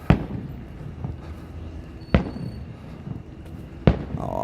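Fireworks at Walt Disney World seen from the Skyliner resort area, three sharp booming bursts spaced about two seconds apart over a low crowd-and-ambient background, moderately distant.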